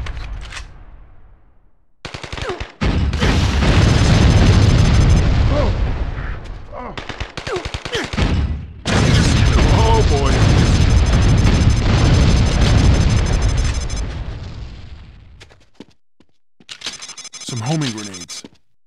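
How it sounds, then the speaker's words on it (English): Grenades burst amid gunfire in the America's 10 Most Wanted shooter: loud, sustained blasts in two long waves separated by short gaps, with a later smaller burst and voices mixed in. "Homing grenades."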